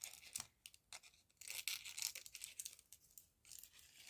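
Scissors cutting circular shapes out of foil by hand, giving close, faint crinkling and snipping sounds in irregular bursts, with no talking.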